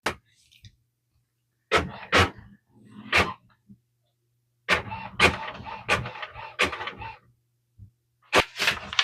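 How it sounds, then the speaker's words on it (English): An HP OfficeJet 8125e-series printer purges ink through a newly replaced printhead, giving sharp mechanical clacks and whirring bursts in irregular groups separated by near silence, close and moderately loud with no talk. "Takes about 2 minutes, and that should purge the ink through the printhead."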